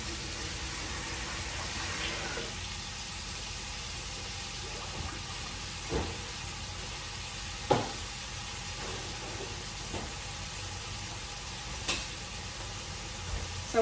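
Food browns in a pan for cabbage soup, giving a steady, soft sizzling hiss throughout, with occasional small clicks and taps of stirring over it and no voices.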